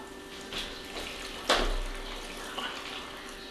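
Pickle brine is poured into a jar in a short splashy burst midway through, over a faint steady background hum, with a few small trickles afterward.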